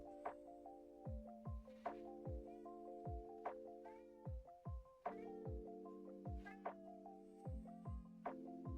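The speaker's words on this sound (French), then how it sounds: "j'entends un chat qui miaule" A cat meows repeatedly, several clear tonal calls spaced irregularly, close and fairly quiet, with small clicks and taps in between.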